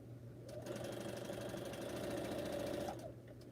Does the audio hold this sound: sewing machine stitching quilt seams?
yes